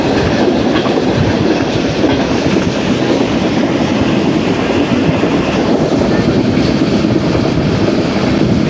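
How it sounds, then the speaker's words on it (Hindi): A goods train rolls past close by in 45°C heat, a loud continuous rumble with rhythmic clickety-clack of wheels over rail joints and a faint metallic squeal, steady throughout. "यकीनन कोई गुड्स ट्रेन का एक्शन है ये।"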